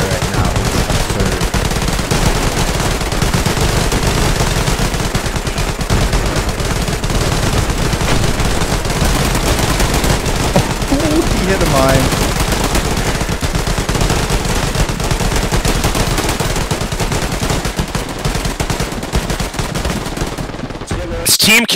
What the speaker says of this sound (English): There's so much gunfire right now.